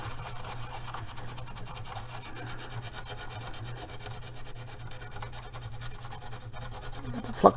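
Vigorous scrubbing on an Amiga A500 circuit board, a steady rough rubbing that continues without pause and stays close and moderately loud, ending with one short knock.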